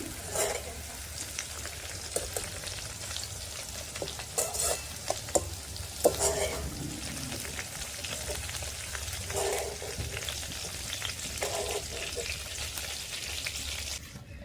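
Black pepper frying in a pan gives a steady, close sizzle and crackle that carries through the whole stretch, with brief louder pops and some stirring scrapes scattered throughout.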